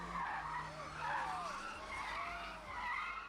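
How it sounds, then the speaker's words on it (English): Tires screeching from a Kia car driving into a housing estate's gardens, a drawn-out wavering squeal somewhat distant and fairly faint over background rumble. "the screeching tires of a fresh Kia can be heard driving into the gardens."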